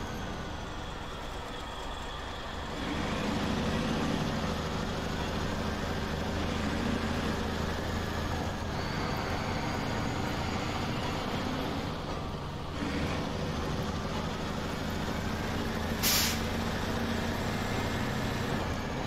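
A big unloaded truck in the SnowRunner video game, Amur region, driving along with a steady, loud engine drone that swells slightly as it runs, with no voices over it.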